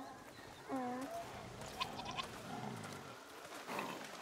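Goats bleating in the video game A Plague Tale: Requiem, a few wavering bleats near the start among game ambience, with voices talking around them.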